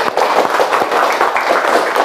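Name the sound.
classroom applause, students clapping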